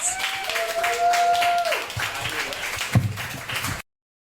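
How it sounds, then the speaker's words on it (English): Applause and cheering from a comedy show audience at a live club night, with a whoop over the clapping and a sharp clap standing out before it cuts off abruptly. "Let's give a big, warm round of applause to Wanye West"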